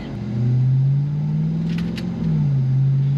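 A supercharged 2021 Ram TRX pickup truck engine drones steadily and surges in pitch as it accelerates, with a high supercharger whine riding over the rumble, loud and close.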